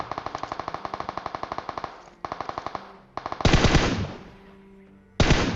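Automatic gunfire in the mobile battle-royale game PUBG Mobile: rapid bursts of rattling shots with brief pauses, then heavier booming blasts, loud and close, with no voices.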